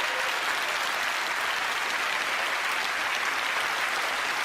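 An audience at a Penn & Teller: Fool Us taping breaks into dense, uniform applause as two people are invited on stage, steady and full for the whole stretch.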